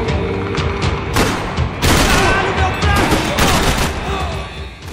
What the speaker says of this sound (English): AK-47 निकालो, पेल दूंगी सबको